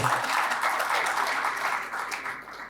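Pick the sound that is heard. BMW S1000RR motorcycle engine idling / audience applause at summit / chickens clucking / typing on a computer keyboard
audience applause at summit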